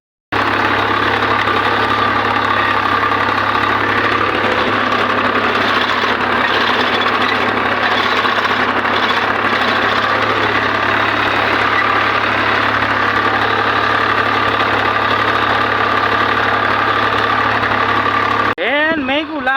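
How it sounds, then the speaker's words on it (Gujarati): A tractor engine idles steadily and loudly in a field during sowing, a constant droning hum with slight knocking that continues throughout and cuts off abruptly at the end. "અહીંયા આપણું ટ્રેક્ટર ચાલુ જ છે અત્યારે"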